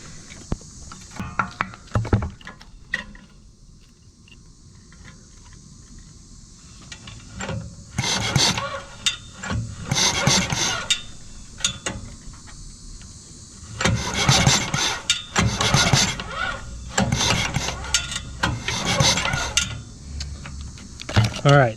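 A 5 HP outboard boat motor is pulled over by its starter cord in several bursts of rasping, whirring cranking, separated by quiet pauses, loud and close.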